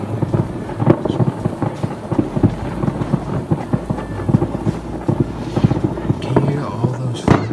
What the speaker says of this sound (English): Can you hear all those fireworks?